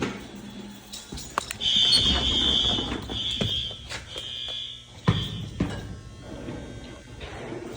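A fire alarm horn blares steadily for several seconds during testing in a middle school crawlspace, amid background clatter and a few sharp knocks, loud and fairly close.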